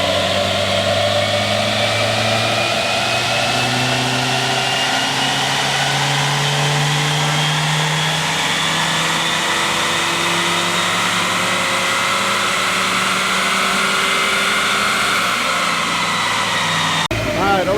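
A Nissan Juke with its OEM airbox runs a dyno pull, the engine note climbing steadily in pitch as it revs under load, loud and constant throughout, with a sharp drop-off right at the end.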